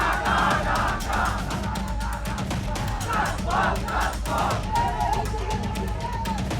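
Thousands of protesters gathered in front of the presidential palace in Dhaka chant slogans, a dense, continuous crowd roar with rhythmic surges of shouting throughout.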